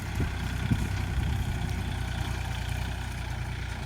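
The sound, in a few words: tractor engine idling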